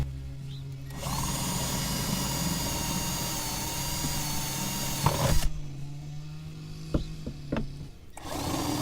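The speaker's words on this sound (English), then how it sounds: "I'm just going to use a 1/2 inch spade bit to enlarge the hole to the proper size for inserting" A power drill fitted with a 1/2 inch spade bit enlarges a license plate hole, whining steadily at close range for several seconds, then stopping with a few clunks and a brief restart.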